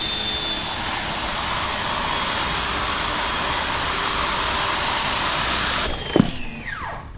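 A Ryobi 12-inch surface cleaner on a pressure washer sprays with a loud, steady rushing hiss, then a knock and a falling whine as it winds down at the end.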